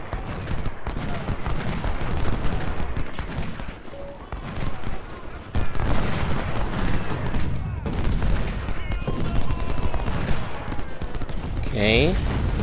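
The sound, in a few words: gunfire from Ultimate General: Civil War video game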